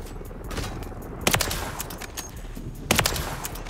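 Two loud, sharp shotgun blasts from a first-person shooter game ring out about a second and a half apart over a steady background din of in-game noise.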